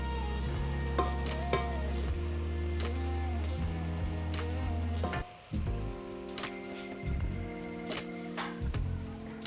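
Food for an Ethiopian traditional dish sizzling in a pan while stirred with a wooden spoon, a continuous close frying hiss with scraping strokes, briefly dropping out before resuming, with no talking.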